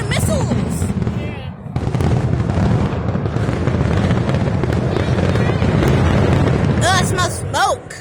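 Fourth of July fireworks going off nearby, a dense run of loud bangs and crackling bursts with whistling rockets near the end, while people talk and exclaim throughout.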